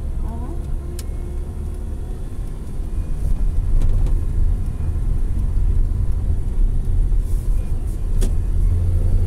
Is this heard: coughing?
no